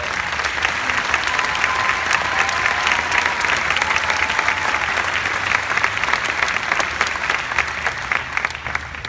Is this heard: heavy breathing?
no